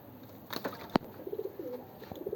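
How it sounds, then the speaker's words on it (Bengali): A pigeon chick of a good Lalbag breed gives soft, low cooing in short pulsed bursts, close by, along with a sharp click and some light rustling, in a rooftop loft. "লালবাগের ভালো একটা কবুতরের বাচ্চা।"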